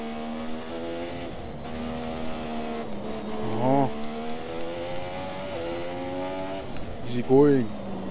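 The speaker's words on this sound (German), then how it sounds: "dann dreht der Motor halt ein bisschen mehr" Formula 1 race car engine in the F1 2017 video game, revving high at the Belgian Grand Prix and shifting through gears, with a steady whine and brief downshift blips under continuous talk.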